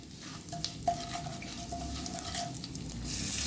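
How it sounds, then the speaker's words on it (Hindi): Mustard seeds and dried fenugreek leaves roasting in a pan for besan kadhi, a quiet, close crackle and sizzle with a faint steady tone running through it. "राई, कसूरी मेथी, इनको हमें भूनना है"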